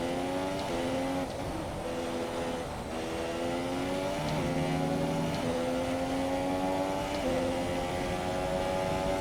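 Racing cars roar through a Formula 1 video game race at Spa, engine notes rising and dropping steadily with gear changes, with a tyre lock-up under braking mixed into the continuous, close engine drone.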